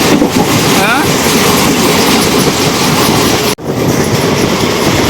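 A passenger train running fast between Tiruvannamalai and Tirupati past Pakala roars steadily from inside, with rhythmic clickety-clack of the wheels and a brief sharp dropout near the end.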